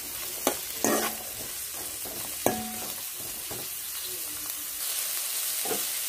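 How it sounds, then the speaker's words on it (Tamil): Sliced bitter gourd sautéing in a pan gives a soft, steady sizzle, with a few sharp spatula scrapes and stirring knocks, faint and close, with no talking. "பாவக்காயோட நிறம் சேஞ்ச் ஆகிற வரைக்கும் நம்ம அதை அப்படியே நல்லா வதக்கிக்கிட்டே இருக்கலாம்"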